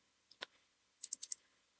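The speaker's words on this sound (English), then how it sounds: "and you double click" Computer mouse clicking while navigating a software interface: a single click followed by a quick double click, then a second rapid pair, close and crisp in a quiet room.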